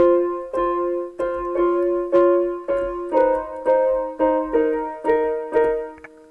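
A piano plays a slow melody of about a dozen distinct notes and chords, each struck clearly and left ringing, close and steady with no talking.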